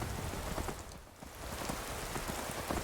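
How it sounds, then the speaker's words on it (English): Steady rain falls in Skyrim Special Edition, a dense, even patter of drops hitting surfaces that stays loud and continuous throughout, with no voices. "It's raining."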